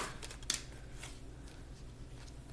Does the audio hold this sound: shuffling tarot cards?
yes